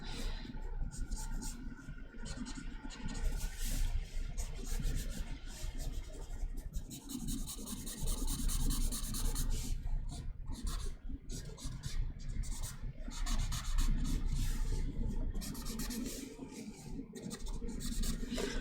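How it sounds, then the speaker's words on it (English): Pencil sketching loose, quick studies of a car on paper, a continuous close scratching and rubbing with rapid back-and-forth strokes, steady and fairly loud throughout. "Real loose, quick sketches here."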